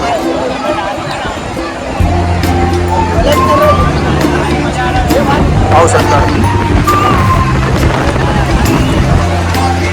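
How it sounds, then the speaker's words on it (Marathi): A bustling crowd at a riverside spot during summer, with fair-like babble of many voices, distant shouts and steady background noise, while someone talks nearby. "बघू शकता जत्रेसारखी गर्दी आहे"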